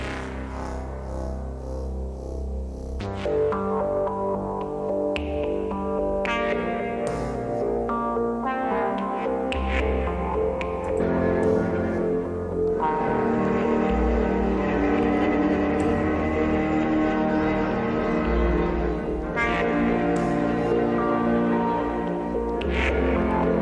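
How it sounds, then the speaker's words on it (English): A layered electronic synth part plays steadily with echo and effects, sustained tones shifting between chords across the whole passage, with no voices. "and that is a synth part"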